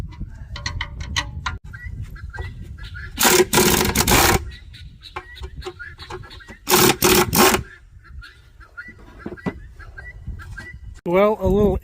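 Air impact tool zipping a nut off a Farmall Cub tractor: two loud, close bursts of about a second each, separated by quieter shop noise and background sound.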